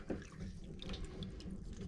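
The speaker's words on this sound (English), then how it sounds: "I've filled up this cup of fresh water and I'm just gonna like dip it" Seaweed gathered while foraging gets dipped and swished in a cup of fresh water for a rinse, giving close, soft sloshing and trickling water sounds with faint drips, steady and unbroken, with no voices.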